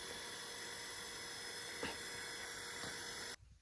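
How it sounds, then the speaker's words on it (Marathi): A 1 HP electric motor pumps liquid fertilizer out of a drum, a steady, close mechanical whine and hum with a couple of faint knocks, then it cuts off abruptly near the end. "मोटर आपली 1 HP 10 ते 15 मिनिटात सगळं टिपाड खाली होते सगळं"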